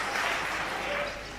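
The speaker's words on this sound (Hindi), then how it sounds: "देखो अभी भी जो लोग ताली बजा रहे" An audience at a Hindi comedy poetry show claps in a steady wash of applause that fades slightly toward the end.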